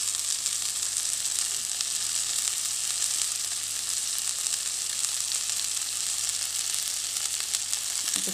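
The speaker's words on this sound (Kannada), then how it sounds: "ಇದು ರೆಡ್ ಕಡೆಲ್ಲ ಫ್ರೈ ಆವಡ" Pomfret fish frying on a tawa, a steady bright sizzle that holds evenly throughout with no talking.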